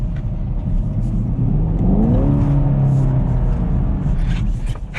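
A Chevrolet Camaro SS with a six-speed manual revs in first gear, a loud, close engine note rising and sweeping through a couple of throttle blips over a steady rumble, with no one speaking.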